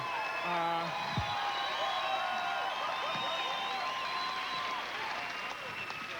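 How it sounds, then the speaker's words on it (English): A studio audience at a Comic Relief show with a guest star claps and whoops in a steady, dense wash of applause and cheers, with a brief voice near the start. "That was a very nice round of applause"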